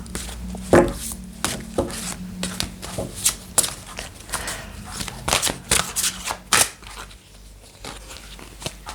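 Fairy tarot cards shuffled by hand, a run of papery riffles, slaps and flicks in uneven bursts, close up, with faint background noise.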